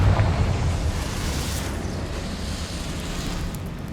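A Confringo explosion spell in Hogwarts Legacy, a loud deep blast that rolls into a long rumbling roar and fades slowly, heard alone.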